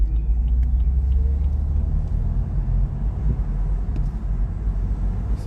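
A 2017 BMW M4 Competition rolls along the road, its engine giving a loud, steady low rumble heard from inside the cabin, with slight rises and dips and no talking.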